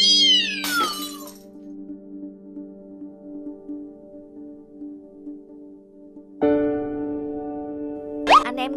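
Cartoon cat meowing in an animated short set in a kitchen, a sharp yowl at the start followed by a long sustained drone, then another rising cry near the end, loud and close with musical tones underneath.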